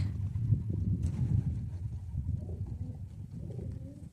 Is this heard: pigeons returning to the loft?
yes